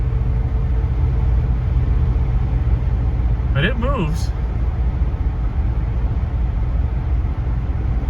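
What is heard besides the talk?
1973 Ford LTD Brougham 460 V8 engine driving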